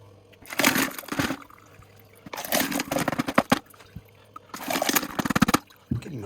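Small rock tumbler barrels holding dendritic opal are emptied in three loud bursts. Water, slurry and stones pour and clatter out, with quiet pauses between the pours.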